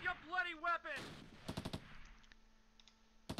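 Gunfire in the Close Combat Last Stand Arnhem video game around Wolfheze: a rapid burst of several sharp shots, then scattered fainter pops, following a brief stretch of speech at the start.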